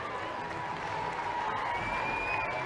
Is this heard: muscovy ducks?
no